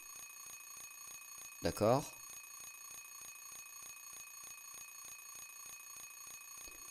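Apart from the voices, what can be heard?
alarm clock ringing in Silent Hill 3 video game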